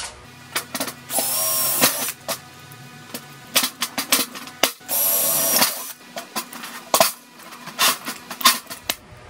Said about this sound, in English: Okay, I got me some pop rivets and an 1/8 inch drill bit.